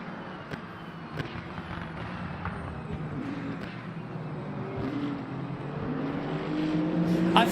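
Race car engine in the Le Mans Ultimate racing sim, droning steadily with shifting pitch as the driver lifts off the throttle, building louder toward the end amid other multiclass cars.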